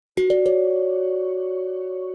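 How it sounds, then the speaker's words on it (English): Tank drum struck unmuted with the hands, three quick hits in a row followed by a long, bright, sustained ringing tone that slowly fades, alone and close. "similar instrument that is slightly brighter than the handpan is the tank drum"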